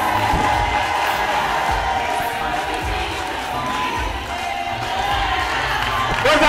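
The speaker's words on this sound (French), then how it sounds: "Ce sont des applaudissements." A crowd at a community program presentation in Lubumbashi cheers and applauds in a dense, continuous roar, with voices mixed in and a few low thumps.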